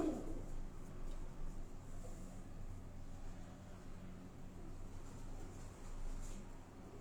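Pigeons in a rooftop loft coo softly and steadily against low background hum, the calls faint and continuous with no voices over them.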